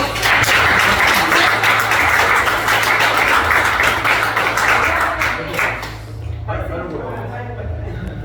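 A church congregation claps together, dense and fairly close, for about six seconds before the clapping stops abruptly, leaving a low hum of room noise with a voice under it.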